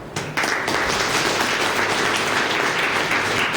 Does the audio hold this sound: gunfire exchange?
no